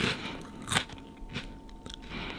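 Grilled dried pollack (meoktae) being bitten and chewed up close: a few crisp, crackly crunches, one loud bite near the start and softer crumbling bites after, with no talk.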